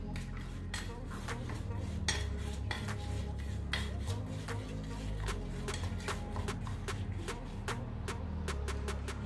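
A spoon repeatedly taps and scrapes a metal pan while jaggery is mixed with a little water until it melts. The clinks are quick, irregular and close over a low steady hum.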